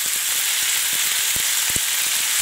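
Lamb pieces frying fat-side down in a pan give a loud, steady sizzle with sharp crackles and pops spattering throughout, close and continuous with no voices.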